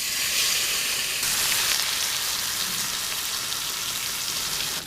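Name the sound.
chicken sizzling in a pan at a bush camp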